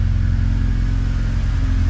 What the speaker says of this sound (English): Full exhaust on the TSX. Sounding really good.